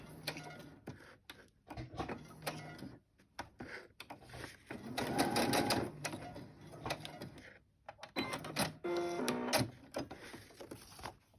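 Irregular ticking and whirring bursts from a sewing machine stitching around a paper envelope, close but fairly quiet, stopping and starting.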